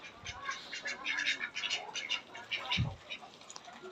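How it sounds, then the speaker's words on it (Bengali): Muscovy and local ducks quack faintly and intermittently while being fed, with soft scattered calls and a couple of low thuds. "বড় হাঁসগুলা, চিন হাঁসগুলোকে খাবার দিব।"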